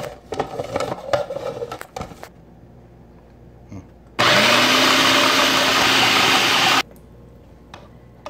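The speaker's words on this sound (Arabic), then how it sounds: "اضربهم الاول ضربه كده بس اتاكد كله امتزج" A blender whirs loudly and steadily for a few seconds mixing a spiced meat mixture for luncheon meat, then stops abruptly; light clinks and handling noises come before it.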